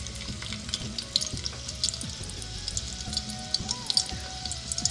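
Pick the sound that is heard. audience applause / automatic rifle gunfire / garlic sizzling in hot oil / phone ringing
garlic sizzling in hot oil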